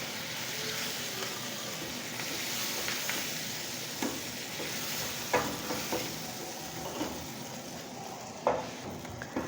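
Cream stirs into spinach and butter in a pan over a low flame, a soft continuous hiss broken by a few sharp spoon scrapes and taps against the pan.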